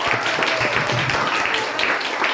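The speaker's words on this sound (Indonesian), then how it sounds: "Beri tepuk tangan untuk kita semua." Applause from the audience at a Qur'an quiz competition final held at a madrasah, with dense, loud clapping sustained throughout and a faint voice mixed in.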